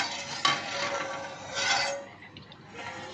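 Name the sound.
pot being placed on the stove to cook sooji halwa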